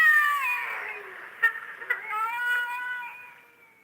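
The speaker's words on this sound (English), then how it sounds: "So I'm gonna go kill the cats now, Vinny" Several cats meowing and yowling in overlapping, drawn-out cries, fairly close and loud, with a few brief knocks partway through and no talking.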